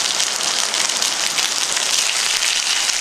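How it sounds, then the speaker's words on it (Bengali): Cinnamon, cloves and cardamom fry in a pan with a loud, steady, close sizzle that hisses evenly throughout. "দারচিনি আর লং এলাচ ফড়ংটা ভালো করে ভেজে নিচ্ছি"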